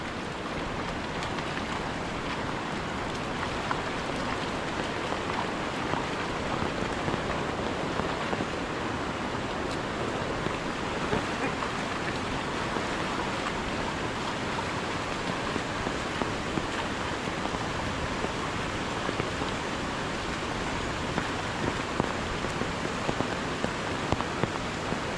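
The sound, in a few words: heavy rain in Konkan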